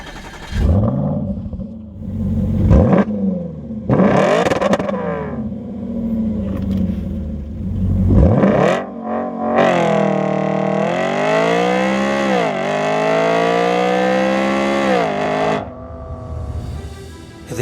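A 2015 Audi RS4 B8.5 Avant's engine revs hard, with rising and falling sweeps and a long sustained high-rpm pull, loud and close, with a brief pause between bursts.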